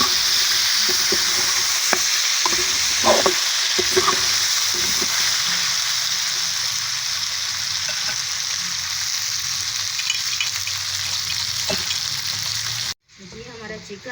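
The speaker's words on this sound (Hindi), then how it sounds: "और लहसुन अदरक को भी इसी के साथ हम अच्छे से फ्राई कर लेंगे।" Chicken frying in a pan with garlic and ginger paste for a chicken and okra masala, a steady loud sizzle with occasional stirring scrapes, cutting off abruptly near the end.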